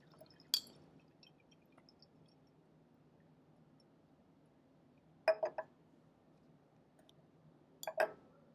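Acid transferred from a glass pipette into a flask in a lab gives a few faint, sharp drips and clinks, one early and then two clusters near the end, against near silence.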